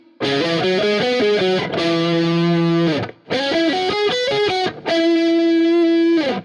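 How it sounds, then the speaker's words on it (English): Distorted solo electric guitar through Tube Screamer and Marshall Plexi amp plugins plays loud sustained melodic lines in two bursts, broken by short gaps. "On my solo guitar, I use Dunacomp from Positive Grid again, then Tube Screamer from UAD, and Marshall Plexi from UAD as well."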